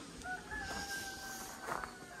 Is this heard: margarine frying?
no